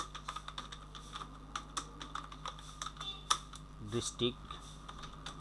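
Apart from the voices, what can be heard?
typing a resume on a computer keyboard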